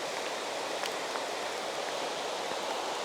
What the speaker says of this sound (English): this rain is really starting to get to me